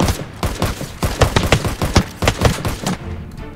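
Rapid bursts of gunfire ring out in the video game Ring of Elysium, a dense string of sharp shots with a few brief gaps over several seconds, loud and close.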